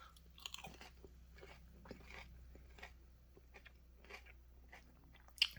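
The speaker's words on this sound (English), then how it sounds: "As you can hear me chewing, you hear the crunch." Faint, close chewing of crispy battered chicken tenders, with soft crunches and bites at an uneven pace and one sharper crunch near the end, with no talking.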